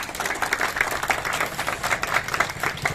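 A crowd at a Tamil debate event claps hard on request, a dense, pulsing round of applause that surges in waves across the whole stretch.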